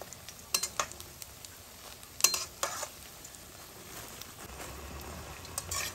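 Urad dal fritters for Bengali rasabara sizzle steadily in hot oil, with a few sharp clicks and scrapes from stirring near the pan and no voices.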